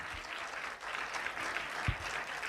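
Applause for Abdul Razzaq, a blind world champion, at an International White Cane Safety Day event: a soft, steady wash of many hands clapping, distant and low in level, with a couple of faint thuds and no speech.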